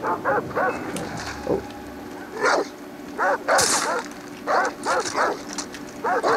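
Several dogs bark in short repeated bursts during video game play, loud and close, spaced across the whole stretch with no speech.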